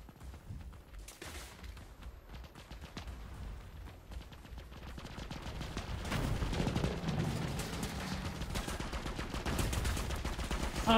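Rapid bursts of video game gunfire from a spread fire weapon, dense and continuous, growing louder and heavier in the second half with booming impacts, close and without talk.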